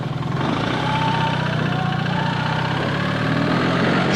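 A BMW R1300GS Adventure motorcycle engine runs with a steady, low, tractor-like chugging rumble, close and loud, holding an even level throughout.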